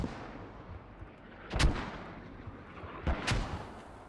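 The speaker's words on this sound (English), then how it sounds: "look at these mortars coming directly on top of this radio" Mortar rounds land in a competitive military shooter match, near a radio objective: two heavy booming impacts about a second and a half apart, each a sharp crack with a rumbling tail over a steady low battlefield background.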